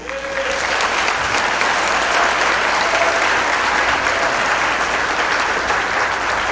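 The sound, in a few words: applause from an audience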